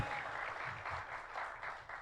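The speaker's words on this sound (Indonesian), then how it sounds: "Ayo berikan lagi tepuk tangan yang meriah buat Tuhan Yesus." A church congregation claps in sustained, lively applause, many hands patting together at close range in a steady wash with no break.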